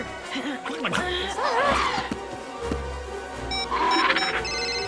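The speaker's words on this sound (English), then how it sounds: "That's a giant phone." A giant telephone rings in the LEGO Jurassic World video game, heard as a loud, repeated bell-like trill over game music and effects, with voices talking and laughing around it.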